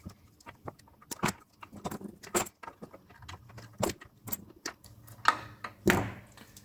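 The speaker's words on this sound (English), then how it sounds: "So I'll snip all that off." Old factory wiring loom connectors on a Holden Torana dash being snipped off, a string of sharp, close clicks and snips at irregular intervals, with light clatter of plastic pieces between cuts.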